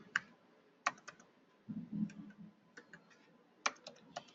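Typing on a computer keyboard, with sharp key clicks in short irregular bursts and a low bumping thud mid-way, close and fairly quiet, with no talking.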